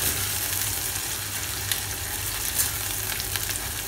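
Onions frying in a pan while being browned for Mumbai-style misal pav, a steady close sizzle with a low crackling bed throughout and a few sharper pops, no voices.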